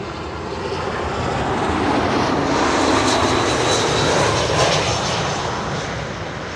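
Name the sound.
airplane landing at Schiphol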